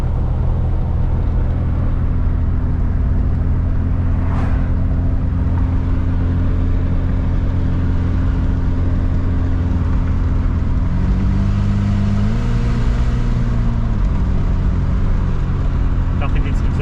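An 80 Series Toyota Land Cruiser with exhaust in need of repair drives along, its engine giving a loud steady low drone that shifts pitch as it changes gear, with talk in the cabin.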